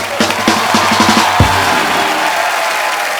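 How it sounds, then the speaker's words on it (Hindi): Studio audience on a Hindi television show breaks into loud applause with cheers and whoops, a dense crowd wash with sharp bursts early that settles into steady clapping. "एक बार जोरदार तालियां हो जाए मिस्टर राज कुंद्रा के लिए।"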